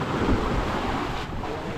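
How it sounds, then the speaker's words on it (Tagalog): Big ocean waves roll and surge, a loud broad rumble of surf mixed with heavy wind buffeting the microphone, with no talk. "ang laki ng gulong ng alon"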